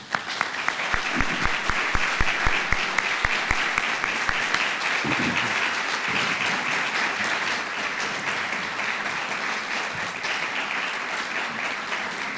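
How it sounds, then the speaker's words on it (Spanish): Sustained audience applause at a tribute ceremony, steady and dense, with a few distinct close claps near the start before settling into an even wash of clapping that continues to the end. "me obsequien un aplauso"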